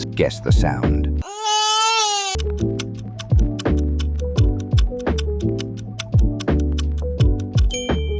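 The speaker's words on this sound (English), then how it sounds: "Baby crying." An infant cries in one short, wavering wail of about a second, set between bursts of plinking, bell-like music, with a voice speaking briefly at the start.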